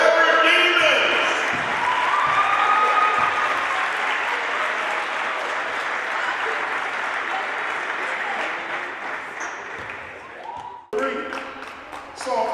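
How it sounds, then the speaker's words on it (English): Crowd applause and cheering fill a girls' high school basketball gym during senior night at Westlake vs Midview, a loud, sustained wall of clapping that holds steady for about ten seconds, dips briefly, then surges again. "another round of applause for our seniors on senior night, our forever demons"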